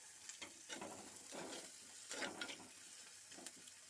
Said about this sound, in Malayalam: ഒന്ന് ഇളക്കി കൊടുക്കുക.